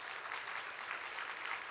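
Church congregation applauding together at a Sunday service, a steady, moderately distant patter of many hands clapping with no voices.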